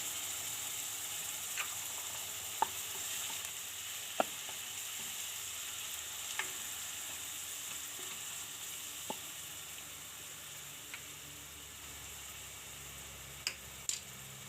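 Green chillies and ginger frying in oil for paneer bhurji, a faint steady sizzle with scattered sharp pops and ticks over a long stretch, no voices.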